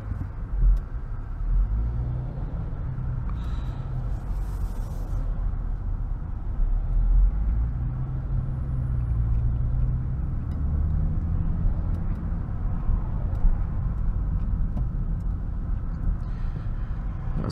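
Land Rover Discovery 2023 facelift with a 360 PS petrol engine, heard from inside while driving: a steady low engine hum and road rumble, even and continuous, with no talk.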